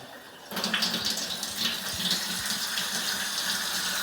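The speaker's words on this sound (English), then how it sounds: "As it's filling up that hot water heater, that air has got to escape." Water rushes steadily into an electric hot water heater through an opened valve, starting abruptly after a brief quiet moment and then continuing as a constant, fairly loud hiss and splash like a running tap.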